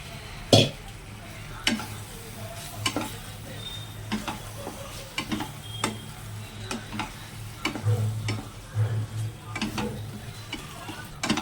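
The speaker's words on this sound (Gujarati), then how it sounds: "હવે આપણે આમાં તુવેર નાખી દેવાની છે" Green pigeon peas (tuver) go into a sizzling masala and are stirred. A continuous frying sizzle runs under repeated sharp taps and scrapes of a spoon against the pan, some louder knocks standing out.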